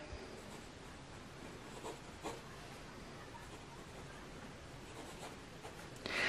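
A stub-nib fountain pen scratching across paper in short, soft strokes, close and quiet, with a louder rustle at the end.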